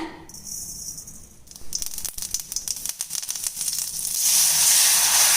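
Spices hit hot oil with a sudden crackling sizzle that builds into a steady, hissing fry, close and fairly loud.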